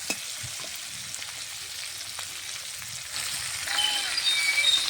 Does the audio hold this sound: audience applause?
no